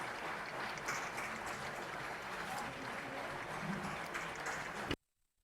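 Applause from a gala audience in Sopot, Poland: dense, sustained clapping from a large hall crowd that holds steady for about five seconds, then cuts off abruptly into silence.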